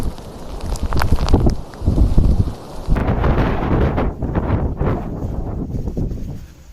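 Strong wind roaring through a heavy snowstorm on an expressway in Hokkaido, a loud, continuous buffeting rush with gusty surges and rumbling bursts against the microphone throughout.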